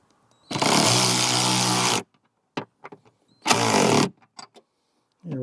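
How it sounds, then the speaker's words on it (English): A power impact wrench hammers bolts tight on hydraulic hood strut brackets in two loud, sustained bursts of about a second and a half each, separated by a pause, with small clicks and handling noises in between. "And then we'll tighten it down here with the impact here."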